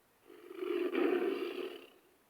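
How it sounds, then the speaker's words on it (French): Recorded lion roar from a Fisher-Price bilingual learning toy table, a single drawn-out electronic roar swelling and fading over about two seconds, moderately loud and alone. "Un lion."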